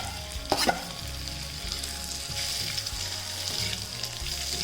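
Egg pieces fry and sizzle in a pan on low flame for an eggplant bhorta, a close steady crackling hiss with occasional stirring scrapes and a brief clatter near the start, no voices.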